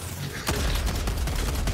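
Quasar cannon firing in a video game match against bots, a loud burst of rapid blasts and explosions that carries on without a break.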